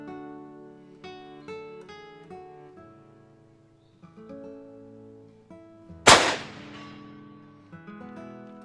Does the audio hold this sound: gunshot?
yes